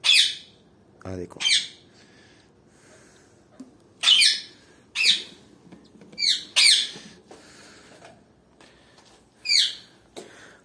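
Albino red-eyed birds at a breeding farm give sharp, bright squawks in repeated bursts, about eight calls spread across the stretch, fairly close, with a brief spoken phrase in between.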